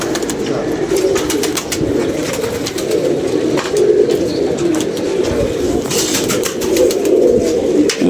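Golden pigeons coo in soft, repeated rounds nearby, the calls running steadily through the clip with a few light clicks and rustles around them.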